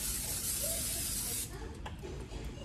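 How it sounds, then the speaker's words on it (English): A short burst of Pam cooking spray hisses into a pan for about a second and a half, close and loud, followed by faint kitchen clatter. "Put a little Pam in here so your eggs won't stick."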